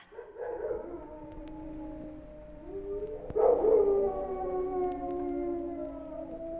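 Dogs howling and barking as a radio drama effect: long, wavering howls rise and overlap, swelling louder midway into a mournful chorus of several dogs before easing off.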